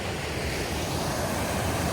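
Water rushes steadily in a stream at a gold mining site, a loud, unbroken broadband wash with no voices.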